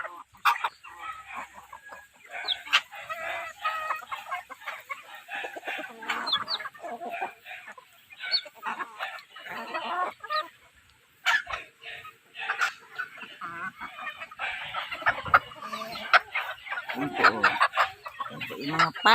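A flock of chickens clucks and chatters almost continuously, with scattered sharper calls and a possible crow, busy and close over the whole stretch, with a faint voice now and then beneath the birds.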